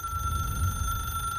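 A telephone rings in the video game Control, heard as a steady, sustained electronic tone with bright overtones that holds level for the whole brief moment, alone and without speech.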